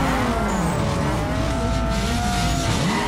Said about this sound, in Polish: fajne to jest to, że się tak zmienia ten dźwięk silnika.